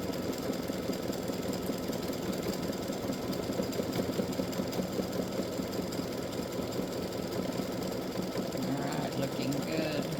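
Embroidery machine stitching out freestanding lace bat earrings, a steady rapid mechanical needle chatter that runs continuously and fairly loud throughout, with no pause.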